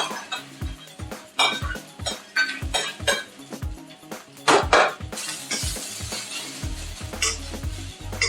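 Egg fried rice being stirred in a pan: rapid, rhythmic scraping and clinking of a utensil against metal over a steady sizzle, close and loud, with no talking.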